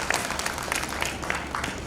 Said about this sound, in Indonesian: Kasih tepuk tangan yang meriah bagi Tuhan Yesus.